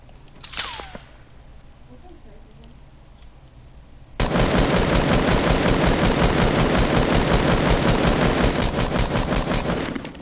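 Rapid automatic gunfire in Fortnite on a mountaintop, a loud sustained burst of evenly spaced shots that runs for about six seconds after a quieter stretch that opens with a brief sharp sound.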